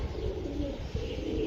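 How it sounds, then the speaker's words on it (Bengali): Large red-eyed Giribaz racing pigeons coo softly in low, throaty murmurs close by at a Bangladeshi pigeon seller's loft, the calls overlapping in a steady burble with faint chirps and no voices. "একদম লাল টকটকা, বড় বড় কবুতর"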